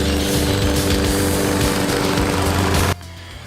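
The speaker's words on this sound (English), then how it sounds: "I'm going to go ahead and mow this all up" A lawn mower runs loud and close over a freshly dethatched lawn, its engine droning steadily before the level drops sharply near the end.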